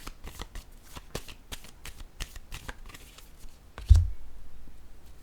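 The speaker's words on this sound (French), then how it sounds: "je vais déposer une carte encore sur le cul-de-sac" Tarot cards handled on a table, a quick run of crisp papery flicks and taps followed by a single heavier thud as a card is set down, close and alone.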